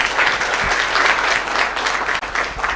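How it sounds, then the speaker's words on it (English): Steady audience applause at an opening ceremony for a Kenyan moot court competition as the president walks to her seat, dense and sustained throughout with one brief dip near the end. "A better clap as the president walks to her seat."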